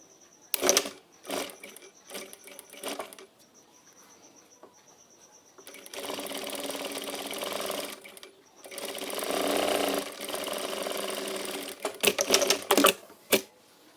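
A sewing machine stitches a fabric strip for a kurta in several loud bursts of rapid needle clatter, separated by short pauses and a few brief clicks and handling noises up close.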